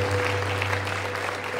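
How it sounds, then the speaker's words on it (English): A church congregation at a Sunday Assembly of God service claps together in a dense, sustained burst of applause, loud and continuous throughout, with a low steady hum underneath. "give the Lord a mighty clap offering this morning"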